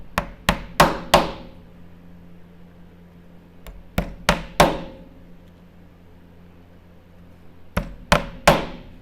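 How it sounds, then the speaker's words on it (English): A hammer strikes a wooden block for a Moonball kit in three quick bursts of three or four sharp knocks, each burst separated by a short quiet pause, close and clear. "So I'm going to line it up, hammer."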